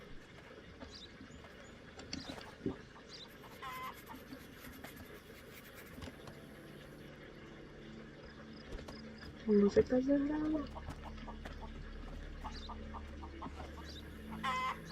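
Chickens being unloaded in the video game Contraband Police cluck and squawk in short bursts over background music, with someone talking intermittently throughout.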